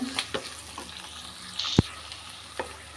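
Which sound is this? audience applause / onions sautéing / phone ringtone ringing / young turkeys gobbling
onions sautéing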